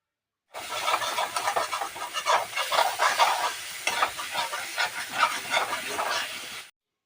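Spices and potatoes sautéing in a pan for a mushroom curry, a steady close sizzle and hiss with scraping stirs throughout, no voices, cutting off abruptly at the end.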